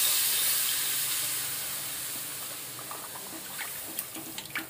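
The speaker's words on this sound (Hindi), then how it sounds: "अब इसके अंदर हम 2 ग्लास पानी डाल देंगे।" Water pours into hot fried spice masala with asafoetida in a pan, a loud steam hiss that slowly fades into scattered sizzling pops and bubbling.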